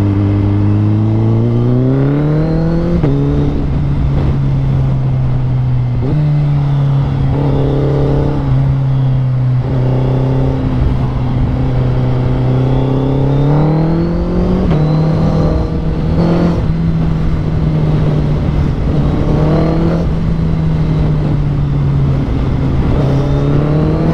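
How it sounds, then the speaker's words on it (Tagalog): A Suzuki Hayabusa motorcycle accelerates on an expressway, its exhaust loud and close. The engine tone climbs in long pulls, drops at each gear change, then rises again, with wind noise constant throughout. "Hindi masakit sa tenga yung arangkada, yung tunog ng tambucho."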